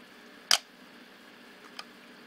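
An East German Pentacon SLR camera fires once, giving a sharp mechanical snap of shutter and mirror, with a fainter click about a second later, close up in a quiet room.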